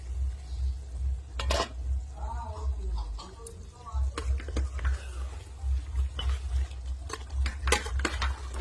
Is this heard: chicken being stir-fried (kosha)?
yes